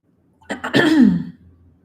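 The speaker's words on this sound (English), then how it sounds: "I'm going to take a drink and clear my throat" A single throat clearing, a short rough burst followed by a gravelly rasp, close and fairly loud.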